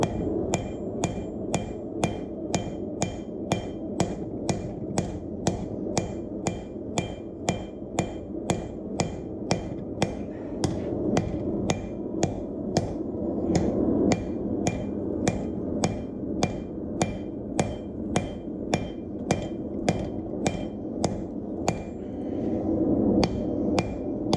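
A blacksmith hammers hot metal at an angle on an anvil to shape a leaf, with steady, evenly spaced ringing strikes about two per second, loud and close, continuing with no talk.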